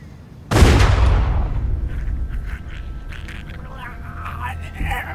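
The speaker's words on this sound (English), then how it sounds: "Why is he shooting?" In The Walking Dead Telltale video game, a single loud, close gunshot cracks out suddenly and rings off in a long rumbling echo, followed by faint background noise and voices.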